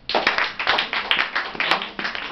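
Students clap together in a classroom, a dense burst of sustained applause lasting a couple of seconds, close and loud with no talk over it.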